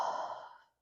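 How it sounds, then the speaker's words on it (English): A long audible exhale during a yoga stretch for the low back, a soft breathy sigh close to the microphone that fades out over most of a second with no speech. "Exhale"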